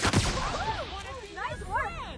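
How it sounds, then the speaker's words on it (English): Pulse gun shots from a sci-fi space explorer video game, a quick burst of sharp shots followed by warbling, swooping electronic tones that rise and fall. "I really just kept shooting that man with a pulse gun"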